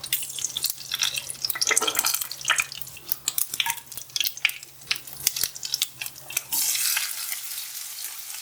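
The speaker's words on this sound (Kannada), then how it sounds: "ಸೊ ಪಾತ್ರೆ ಕಾದಿದೆ, ಎಣ್ಣೆ ಕಾದಿದೆ. ಇದಕ್ಕೆ ಸಾಸಿವೆ ಹಾಕ್ತೀನಿ." Mustard seeds spluttering in heated oil in a pot, a loud close crackle of rapid popping bursts over a continuous sizzle, with brief scraping and stirring sounds mixed in.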